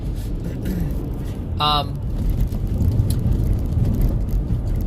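A car suddenly passes on a road, carried in a loud, rough broadband rumble of traffic and wind noise that holds throughout, with a brief vocal sound near the middle.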